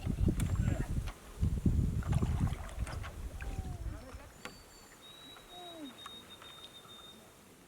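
Canoe paddling on a wilderness lake: several rhythmic bursts of water swishing and wind rumble close to the microphone, followed by quieter lapping, with bird calls audible in the background.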